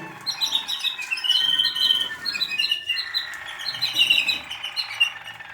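Canaries of a 6- to 8-note song type chirp and trill continuously while feeding, bright high tweets layered from several birds, steady and close with no voices.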